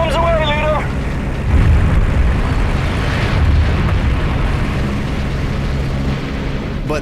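A World War 2 bomb blast at a large dam: a deep, rumbling explosion and sustained low roar with booming swells, heard close and loud, with a brief radio-like voice at the start.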